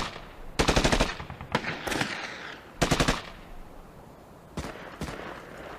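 Several short bursts of rapid gunfire from occasional exchanges between opposing soldiers during the Phoney War of 1939–40 crackle at irregular intervals, separated by quieter stretches of background rumble.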